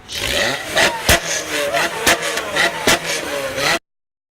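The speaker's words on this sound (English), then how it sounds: "Give it some revs." A Dodge Viper engine revs loudly in several sharp bursts at a supercar parade, roaring up and dropping back, close by, then cuts off abruptly.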